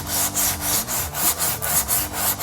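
A hand file strokes back and forth across a custom handmade metal fender in a speed shop, about nine steady rasping passes in a regular rhythm, close and loud with no talking.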